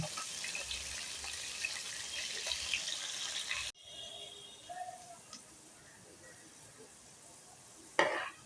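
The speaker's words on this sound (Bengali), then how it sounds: "আলুটা লাল লাল করে ভেজে নেব" A soft, steady sizzle of potatoes frying in a pan, with faint stirring and an occasional scrape.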